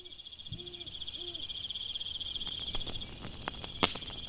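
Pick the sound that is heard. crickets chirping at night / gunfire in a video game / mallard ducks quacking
crickets chirping at night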